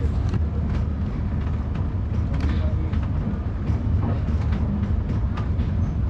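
A train crossing a bridge on the Kolkata to Dhaka Maitree Express route, heard as a steady low rumble and rolling wheel noise that holds even and close throughout.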